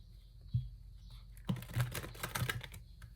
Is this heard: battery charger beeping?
no